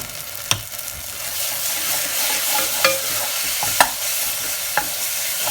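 Ground chili, cumin and coriander powder frying in a pan for Gujarati moong dal, a close continuous sizzle broken by a few sharp scraping knocks of a spoon as the spices are mixed.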